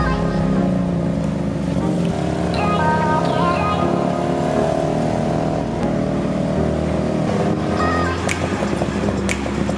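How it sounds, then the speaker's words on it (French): A tuk-tuk ride in Thailand: a steady, loud small-engine drone with shifting revs and road noise throughout, close up, with a voice faintly under it. "C'est parti pour le tuk-tuk."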